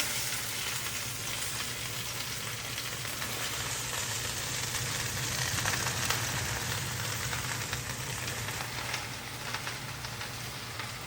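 Vegetables frying in one of several pots on the stove, a continuous loud sizzle and crackle with faint stirring scrapes throughout, steady and close.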